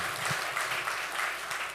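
An audience claps at the close of a keynote at a spring healthcare finance conference in Oregon, a dense, steady wash of applause held at an even level throughout.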